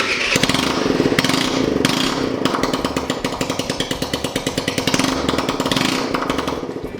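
Loud, raw motorcycle engine runs unmuffled close by, a harsh rapid popping roar that revs up and settles into a choppy, rattling idle.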